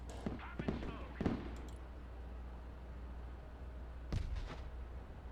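A Bradley fighting vehicle fires its smoke launchers in the game Broken Arrow. A few muffled pops and bursts come early on and another near the end, faint over a low rumble.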